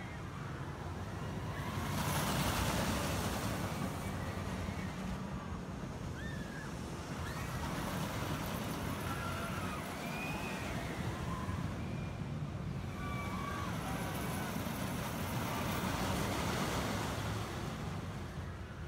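A Six Flags New England ride sweeps past inches from a walkway, a broad rushing roar rising and falling in waves, with crowd murmur and faint distant screams underneath.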